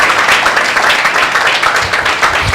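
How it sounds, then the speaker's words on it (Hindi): A church congregation claps loudly during a Sunday worship meeting, a dense, steady wash of many hands that fills the room for the full length with no break. "एक जोरदार ताली"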